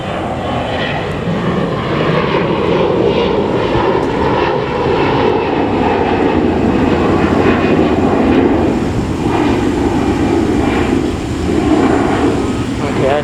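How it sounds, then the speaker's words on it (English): Airplane flying overhead near Playa Del Rey in Los Angeles, a loud sustained engine roar that swells and stays strong for the whole stretch, with a person talking underneath. "I don't even know what the plane's name is."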